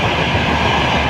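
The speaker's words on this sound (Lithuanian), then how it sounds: "Pagaliau mūsų traukinys." A train pulling into a station makes a loud, close, continuous rumble with a rolling clatter, steady for about a second before cutting off abruptly.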